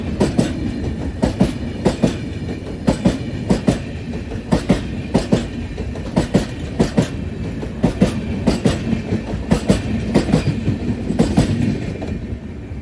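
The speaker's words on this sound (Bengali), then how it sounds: "অনেকক্ষণ প্রতীক্ষার পর ট্রেনটা অবশেষে আসলো।" A local train pulls into Bally station, its wheels beating a steady, loud clickety-clack rhythm over the rail joints for the whole stretch, close by, with no talk.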